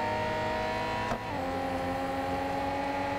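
Ferrari Enzo engine, 660 hp, racing in Real Racing 3 on iPad: a steady, high-pitched engine drone that briefly dips in a quick gear change before holding its strained tone, with no talking.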